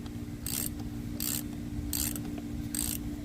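Repeated ratcheting from a socket wrench backing off a front strut bolt on a 2015 Ford Escape Titanium AWD, four short rasping bursts over a steady low hum, close by and with no talk.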